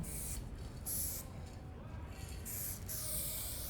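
Aerosol spray paint cans used as art supplies in a prison for supervillains, hissing in several short bursts of varying length over a low, steady background rumble.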